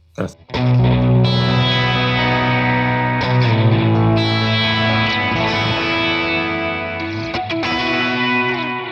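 Electric guitar through an Ampero II with a Vox or Morgan HC20 amp model and a dotted eighth-note delay, notes bouncing back in quick timed repeats, loud and sustained, with a bit of grit and shimmer.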